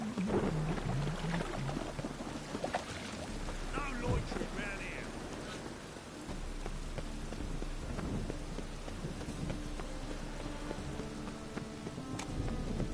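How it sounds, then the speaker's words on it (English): Steady rain falls in Witcher 3, a constant close hiss of drops on surfaces with low rumbling underneath and occasional sharper spatters, continuing without a break. "Raining again."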